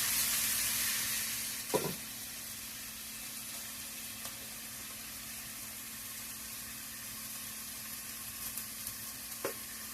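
Onions sizzling in warm grease in a pan for sloppy joes, a steady close hiss throughout with a couple of brief clinks.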